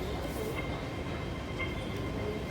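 An MTR C train at Tsuen Wan West Station platform gives a steady, loud rumble with faint squeals from wheels and brakes over continuous low noise.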